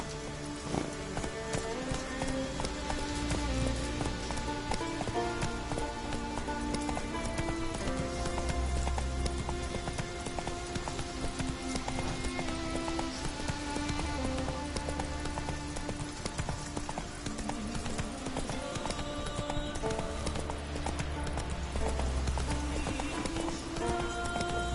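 Hooves of Roach, a horse in The Witcher 3, galloping in a steady clip-clop beneath a dense, continuous bed of game music and ambience, with the footfalls partly masked throughout.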